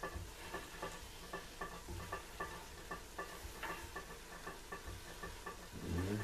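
Shredded savoy cabbage drops into a pan of frying minced meat, giving a steady sizzle with rhythmic stirring scrapes and a heavier clatter near the end.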